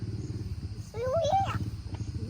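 A motorcycle passes along a rural provincial road, its engine note rising and swelling briefly before fading, while people talk nearby.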